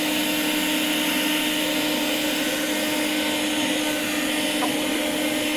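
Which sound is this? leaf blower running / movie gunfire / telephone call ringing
leaf blower running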